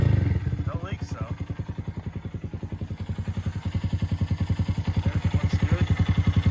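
A Honda Grom 125cc motorcycle with a Kitaco oil cooler fitted idles up close in a steady, fast, even putter that stays loud through the whole stretch, with no voices over it.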